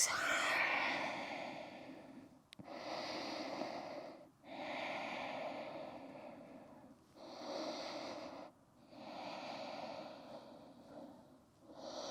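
Slow, deep breaths during a yoga session, long audible inhales and exhales repeating in a steady rhythm, close and soft with brief pauses between them.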